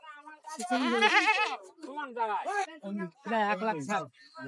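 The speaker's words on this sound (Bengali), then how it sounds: "এটা দেখছেন খুব সুন্দর দুটি সুটামদের ছাগল" Two goats at the Ashulia cattle market bleat in a string of loud, close, wavering calls, several in quick succession with short pauses between them.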